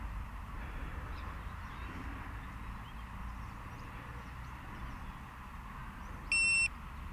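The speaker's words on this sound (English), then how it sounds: "That's giving us a beep." An Eachine E190S RC FPV helicopter gives one short electronic beep on getting a GPS lock, a clear tone lasting under half a second over steady outdoor background noise.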